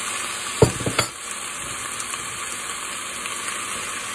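Chunks of butternut squash drop into a sizzling Thai chicken curry with a couple of sharp thuds, followed by a steady bubbling sizzle and faint scraping in the pot.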